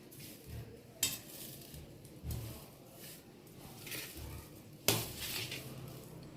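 Sugar being stirred into cooled roasted stuffing in a bowl for sweet pooriyaan, soft scraping and stirring with a few sharp utensil clinks against the bowl.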